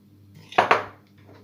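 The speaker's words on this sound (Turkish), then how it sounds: "Şöyle dörde bölmek için hepsine birer kaşık sırayla bu malzemeden dolduruyorum." A spoon scrapes and knocks against a bowl twice in quick succession while filling for an apple semolina tart is portioned out. The sound is close and brief, with no talking.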